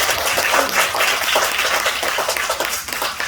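A church congregation at a Sunday worship service bursts into lively applause, a close, busy clapping that fills the whole moment and fades slightly toward the end, with no voices over it.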